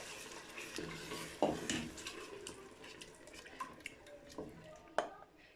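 Eggs being stirred into an onion filling for Moroccan chicken and almond bastilla, a utensil scraping and clinking against a pan with a faint sizzle, two sharper knocks standing out, close and moderately quiet.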